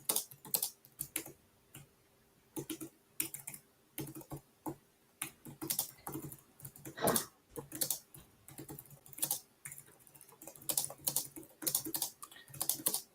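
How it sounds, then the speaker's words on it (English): Typing on a computer keyboard during a policy meeting, close bursts of rapid keystrokes with short pauses between them, steady throughout with no talking. "Don't mind me, I'm just typing."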